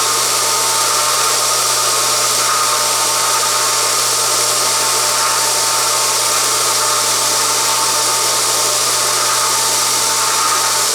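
The motor of a homemade 2x48 belt sander runs continuously, with air rushing out of its exhaust. The sound is a loud, steady, close hiss and whir with a constant low hum and no change throughout.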